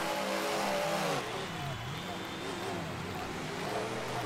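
Off-road racing trucks launching on a stadium short-course track during qualifying, a loud sustained engine roar that surges then settles into a steady drone, with a commentator talking over it.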